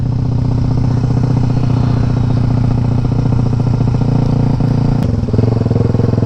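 A motorcycle engine revs hard against a rev cut, its loud, steady buzzing drone stuttering with rapid limiter pulses throughout, a brief dip and snap near the end, with no talking.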